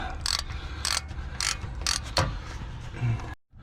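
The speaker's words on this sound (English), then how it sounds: "Second bolt came loose, which is down here." A ratchet clicks in quick bursts while loosening a bolt on the front wheel hub of an Audi A6 C6 Allroad during a wheel bearing replacement, several short rhythmic runs of clicking heard close up with no talk.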